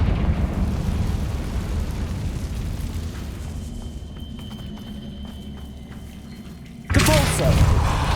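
A Confringo blasting spell explodes in the video game Hogwarts Legacy: a loud, sudden burst near the end of the clip, after a stretch of muffled rumbling and light rhythmic thuds.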